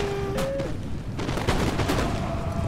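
Musket volleys and cannon fire in Empire: Total War, a Sweden grand-campaign battle, with dense rolling fusillades and booming blasts layered over a continuous loud battlefield din, no voice over it.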